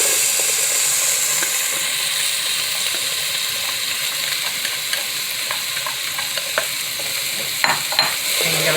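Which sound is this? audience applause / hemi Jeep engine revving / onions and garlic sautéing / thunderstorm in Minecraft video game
onions and garlic sautéing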